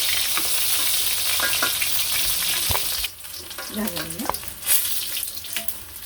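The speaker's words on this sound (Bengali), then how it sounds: "আমি আস্তে আস্তে বড়াগুলো দিয়ে দিব একটা একটা করে।" Lentil fritters (bora) are lowered one by one into hot oil, a loud close sizzle that drops away partway, followed by quieter clinks and handling sounds with a faint splash of water.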